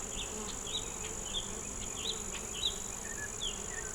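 Honey bees buzz steadily on a hive frame, a close, continuous insect drone with brief higher whines from individual bees passing near.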